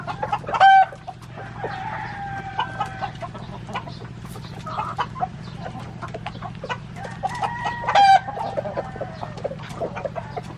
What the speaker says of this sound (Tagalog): Yung mga labuyo, oh. Ang mga mistisong labuyo.